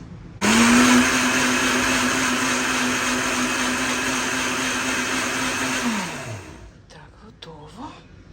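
A blender blending garlic whirs loudly and steadily for several seconds, then winds down, followed by someone speaking briefly.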